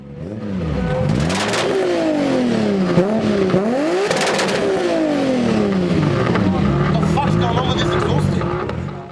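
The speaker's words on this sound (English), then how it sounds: "you probably hear the other car going off in the background" A car engine revs hard several times, pitch rising and falling sharply, loud and close, with crackling pops and some voices beneath.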